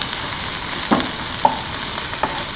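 Crushed garlic and ginger sizzle softly in a pan for a traditional Kerala fish thoran, with a few distinct stirring scrapes and taps over the steady frying hiss.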